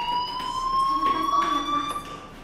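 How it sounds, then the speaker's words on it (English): A fire alarm in the video game Life Is Strange sounds as a steady, piercing electronic tone that holds continuously, with a faint murmur behind it. "do you hear that fire alarm?"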